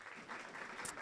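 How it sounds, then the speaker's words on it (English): An audience claps for young girls standing up at an education event, a short burst of steady, dense applause with no voices. "Can we clap for them?"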